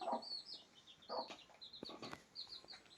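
A hen with her seven newly hatched chicks, heard as faint, high peeping from the chicks and a few soft low clucks, close by and quiet.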